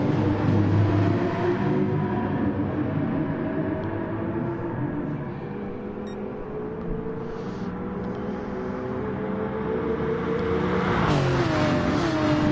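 Race cars in a Group 3 Gran Turismo Sport race roar down a straight, a loud sustained engine drone with shifting pitch as one car slipstreams another, rising again near the end.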